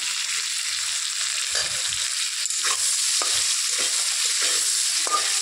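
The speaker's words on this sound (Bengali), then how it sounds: "এরকম করে আলু টুকরো নুন টুকরো একটু নেড়ে ফেলে দেবো।" Potato pieces with salt are stirred in a hot pan, giving a constant bright sizzle with occasional soft scrapes and knocks of the spoon, close and steady throughout.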